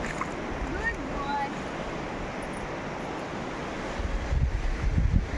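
Waves wash onto Nagaon beach at Alibaug with a steady surf rush and gusty wind buffeting the microphone, the surge growing heavier toward the end as faint voices sit under it.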